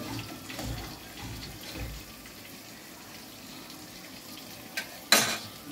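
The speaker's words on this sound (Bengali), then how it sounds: "জাস্ট জলটা ঝরিয়ে নামিয়ে দেবো, জলটা ঝরে যাবে।" Water drains off fish into a sink, a soft continuous trickle and patter, ending with a brief clatter near the end.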